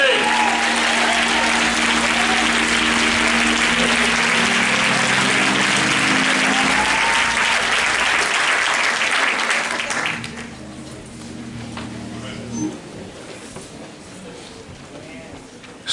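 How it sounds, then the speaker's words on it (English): A church congregation at a funeral celebration-of-life service gives a loud, sustained round of applause for a bishop. It fades sharply after about ten seconds, leaving quieter sustained tones and faint sounds beneath. "please give a warm round of applause to Bishop Johnny Lee"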